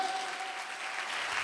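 A church congregation claps loudly during a sermon, a dense, steady wash of many hands that stays at an even level throughout the short stretch.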